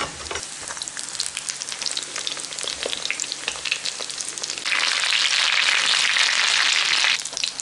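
Chicken and cheese stuffed sandwich bread frying in oil at about 150 degrees, giving a steady, close crackling sizzle that swells louder and denser midway before easing back.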